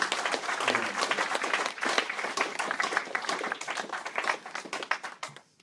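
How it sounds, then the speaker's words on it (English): Audience applause for poet David Wyatt at a poetry reading, brisk close clapping from a modest crowd that thins into scattered claps and fades out. "Guys, round of applause for David Wyatt, everybody"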